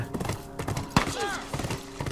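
Horse hooves clip-clop in The Last of Us Remastered, a few hollow hoof knocks spread across a couple of seconds along with a brief whinny-like call, faint talk mixed in beneath.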